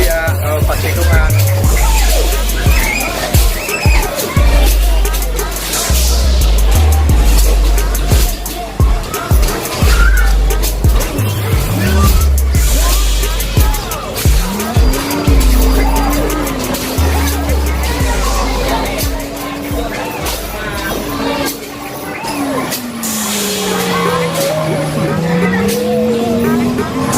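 Engine revving in a motorcycle racing video game, loud and continuous with pitch sweeping up and down through turns, tire skids and game effects layered throughout, with voices talking over it.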